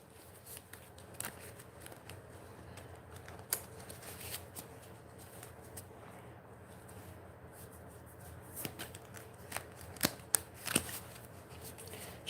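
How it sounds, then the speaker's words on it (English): Playing cards for a board game are shuffled and handled close up, with soft riffling and scattered sharp snaps and taps of cards on a table, fairly quiet, with no talking. "I'm going to shuffle the cards."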